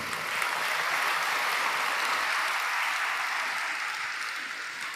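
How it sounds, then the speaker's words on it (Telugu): A church congregation claps during a sermon, producing a dense, steady roar of applause from many hands that holds for several seconds and fades slightly at the end. "ఇప్పుడు కొట్టాలి చప్పట్లో"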